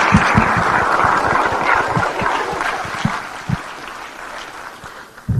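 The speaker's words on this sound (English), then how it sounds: "Please join me in giving a round of applause to this wonderful group." Audience applause after a fintech conference panel, a dense wash of clapping that holds steady for several seconds then thins and fades, with a few sharper individual claps near the end.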